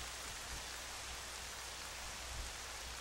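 Steady, even rain falls across Hyrule Castle in the video game Zelda Twilight Princess, a continuous soft hiss with no breaks or voices.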